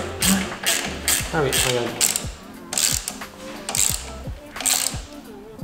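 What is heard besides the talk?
ratchet wrench turning on motorcycle fork axle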